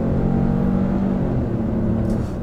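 Engine of a Chevrolet Malibu 1.35T three-cylinder midsize car accelerating, a steady low droning hum with rumble, heard from inside the cabin, constant and fairly loud with no talk.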